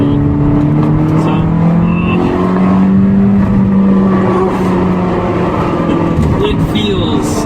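A Lotus Esprit V8 twin turbo on the road drones loud and steady throughout, its engine note shifting slightly in pitch as the car drives on.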